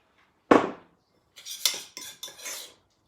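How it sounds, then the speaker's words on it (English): A spoon scrapes and clinks against a bowl as salt and olive oil are mixed for a lamb rub: one sharp clatter, then a short run of quicker scraping strokes, close and with no talk. "we're just going to mix that around"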